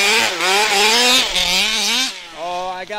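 Two-stroke motorcycle engine revving up and down close by, a loud buzzing whine that rises and falls through several throttle sweeps before briefly dropping off and climbing again.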